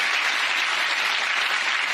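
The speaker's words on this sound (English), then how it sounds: "Give her a big round of applause, ladies and gentlemen." Loud, dense applause from a theatre audience after a magic trick, a continuous wash of clapping across two seconds.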